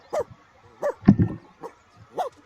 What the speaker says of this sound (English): Oh, this dog is so unhappy.